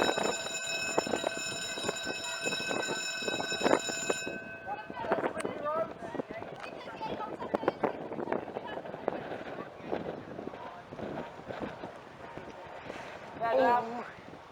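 Passenger train on the Newark Northgate to Peterborough service passing Collingham at Cross Lane, a class 153 unit rumbling past at close range with wheel clatter, a steady horn-like tone at the start and wind buffeting the microphone, with a person speaking over it.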